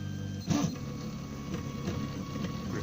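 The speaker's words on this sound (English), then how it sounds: "It's quite happy printing away" A 3D printer prints with a soft, steady motor hum and faint stepping whirs close by, with a brief louder movement near the start.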